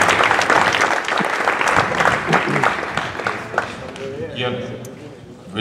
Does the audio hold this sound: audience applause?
yes